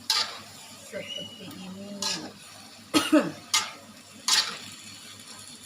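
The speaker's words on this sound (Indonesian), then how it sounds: "Lanjut kita masukkan togenya. Kita aduk" Bean sprouts being stirred into a petai and melinjo-skin stir-fry in a pan: a handful of sharp utensil scrapes and clatters spaced a second or so apart, moderately close, with a voice speaking briefly between them.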